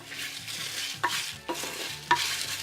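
Coriander seeds and dried red chillies dry-roasting in a pan for a fish masala, with a soft steady sizzle and three sharp scraping stirs of a spoon against the pan, close and alone.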